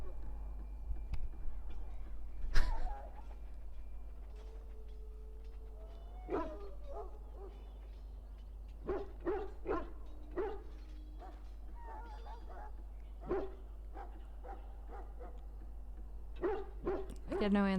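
Dog barking in a video game, scattered sharp barks and yips spread across the stretch, some close and loud, over a low steady hum.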